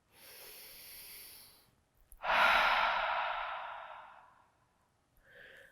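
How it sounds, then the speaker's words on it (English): A slow cleansing breath at the close of a morning yoga session: a soft inhale through the nose, a short pause, then a long, loud, airy exhale through the mouth that fades out, followed by a brief light breath. "Cleansing breath in through the nose and out the mouth."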